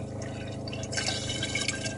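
Water flows steadily from an H2ope water purification system, a continuous splashing pour with a brief surge of louder gushing midway, close and without talk.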